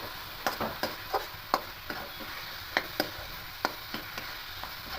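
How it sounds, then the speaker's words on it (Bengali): Coconut sandesh mixture is stirred in a pan over high heat, a spoon tapping and scraping in a quick irregular rhythm above a faint sizzle, close by and without speech. "হাই হিটে দিয়ে এটাকে এভাবে নাড়তে থাকবো"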